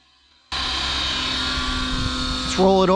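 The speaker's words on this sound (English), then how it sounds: "Boy, what a beautiful helicopter." An Align T-Rex 550X radio-controlled helicopter's engine starts up sharply and holds a steady, high whine with rotor buzz, a voice briefly speaking over it near the end.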